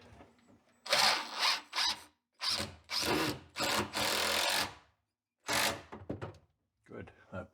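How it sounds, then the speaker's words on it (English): A power drill bores into wood while securing a part of a radial arm saw cabinet, running in several short bursts of whirring with gaps between them, close and fairly loud. "Now I can drill that and secure that to the bottom so it's nice and flush with that side."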